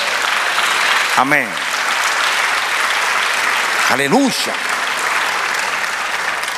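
A church congregation applauds steadily throughout, dense and sustained clapping filling the room, while voices call out briefly twice over the noise.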